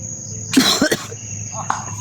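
A single harsh cough close by, followed by a short throat-clearing sound, with quiet background noise.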